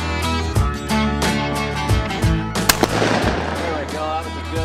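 Shotgun fire at clay targets thrown from the high house on a trap or skeet range, with a shooter using a Falcon Strike recoil reduction device. Loud, sharp blasts ring out in a rapid series close by, their echoes overlapping.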